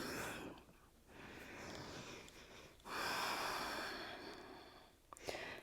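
Slow, audible exhalations during yoga practice, long soft breaths rising and fading in a quiet room, close and gentle with a faint snort near the end.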